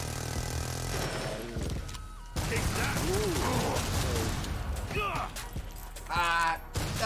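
Gunfire and weapon mechanisms in the zombie shooter Killing Floor 2, Endless mode: clattering mechanical clicks and bursts of shots with loud in-game creature cries, mixed over a busy game soundscape.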